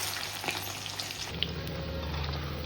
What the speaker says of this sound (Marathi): तर पनीर छान तळतं ह्याच्यामध्ये